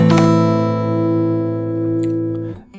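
A minor chord strummed once on guitar, ringing clearly and loudly alone for over two seconds before a faint muted touch on the strings at the end.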